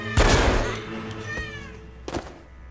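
A cat meows in a film scene from American Psycho, one drawn-out harmonic cry near the start followed by a fainter second call, with a low hum underneath and no talking.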